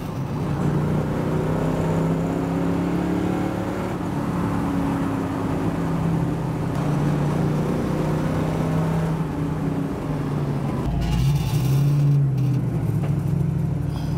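A 1966 Ford Mustang Fastback drives along with a steady, close engine drone, then shifts gears near the end with a brief change in engine pitch; no voices.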